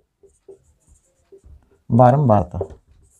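Faint marker or chalk strokes on a board during a Hindi-language class 9 statistics lesson, a few soft scratches and taps near the start, followed by a brief stretch of a voice.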